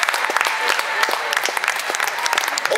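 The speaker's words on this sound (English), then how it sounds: "Give them a big round of applause in British Cycling." At a cycling event in Manchester, a crowd gives a round of applause for the British Cycling staff, with sharp, distinct claps in a lively, fairly close burst.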